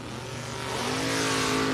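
Drag race cars, a white Mustang and a Monte Carlo, roar loudly at the starting line, engine noise building steadily and filling the whole moment with no talk.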